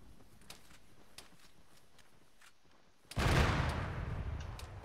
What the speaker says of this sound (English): Oh, that's another AA gun, huh? That's what it sounds like.